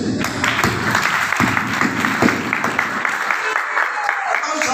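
An audience at a Hindi poetry recital held at the close of a Ramkatha gathering breaks into applause, loud, continuous clapping from a crowd that thins out toward the end, with a voice briefly audible underneath.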